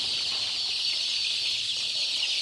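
A poultry farm gives off a dense, continuous wash of chicken clucking and chatter from many birds, steady and fairly loud, with no talking.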